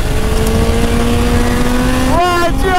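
A brand-new motorcycle rides along at speed, its engine droning loudly and steadily up close with a strong wind roar, then revving up sharply near the end.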